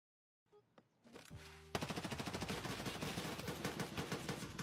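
Rapid automatic gunfire from a video game shooter, starting after a few scattered clicks and then rattling on steadily as a loud, continuous burst of shots to the end.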